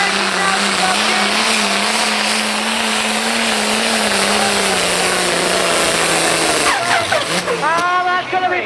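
A tractor engine roars loud and sustained during a night tractor pull at Great Eccleston, a droning pitch that dips slightly near the end as voices break in.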